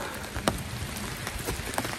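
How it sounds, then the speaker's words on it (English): Steady rain falls on a surface on a rainy afternoon, a dense, even patter with a few louder drops standing out and no talk. "Welcome to a very rainy afternoon."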